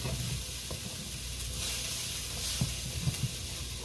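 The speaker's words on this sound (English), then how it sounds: "A little sizzle, a little grill, ain't going to hurt them." Chicken pieces frying in oil for fried rice give a steady bright sizzle and hiss, with a few soft clinks and stirring taps underneath, close and continuous.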